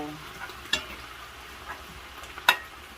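Chayote and ground beef saute simmering in a pan with added hot water, a soft, steady bubbling and sizzle with two sharper clicks standing out, fairly quiet throughout.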